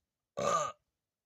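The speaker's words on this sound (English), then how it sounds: "you should be so full of air that you're just burping it up" A single short, throaty burp sounds close by, about a third of a second long, alone against silence.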